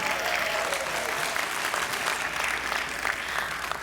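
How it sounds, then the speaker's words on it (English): Audience applause for soon-to-be graduates of the class of 2024 at a scholar night event, a dense, steady wash of clapping from a large crowd in a hall. "Let's give them a huge round of applause."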